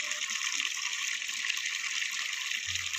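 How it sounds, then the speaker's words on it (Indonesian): Clear water gushes steadily from the tap of an artesian bore well feeding a fish pond, a constant hissing flow heard up close, with a brief low thump near the end. "saya buka di sini kerannya"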